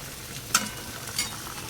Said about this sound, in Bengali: এখন করছি উচ্ছে ভাজা আর সর্ষে বাটা দিয়ে কাতলা মাছের ঝাল